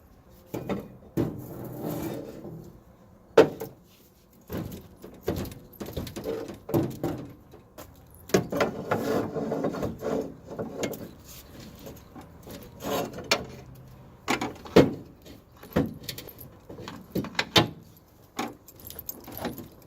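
An original Suffix A gearbox is worked loose with a big pry bar, giving irregular metallic clunks, scrapes and knocks with pauses between them. Most sounds are sharp and close, and nobody speaks.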